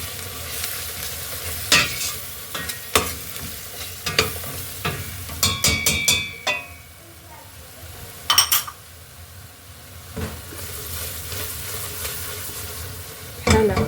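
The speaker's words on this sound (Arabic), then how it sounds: "كنحركوه مزيان." Spiced food being stirred in a cooking pot with salt, turmeric, paprika and cumin, giving repeated scraping and clinking strokes over a low steady sizzle, loud near bursts spaced irregularly.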